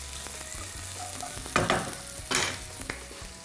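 Onions frying and caramelizing in a pan give a steady low sizzle, with two brief louder bursts of stirring or scraping partway through, close and with no talk.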